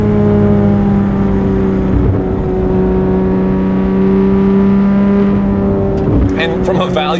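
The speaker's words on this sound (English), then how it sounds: "Just going from second to third under just normal acceleration in some of these twisties is a whole lot of fun." Porsche 911 GT3 RS of the 991 generation, engine pulling hard under normal acceleration on twisty roads and shifting from second to third, a loud steady high-revving exhaust drone that continues throughout.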